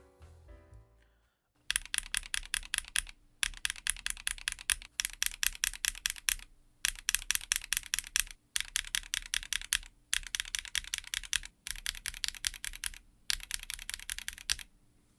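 Mechanical key switches typing on a Transition Lite TKL keyboard, a steady run of crisp clacks in quick bursts separated by short pauses, close and alone with no talking.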